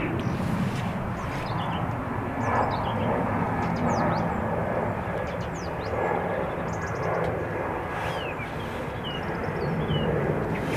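A departing airliner roars from a distance at Dublin Airport, a broad steady engine rumble filling the scene throughout, with faint bird chirps scattered above it.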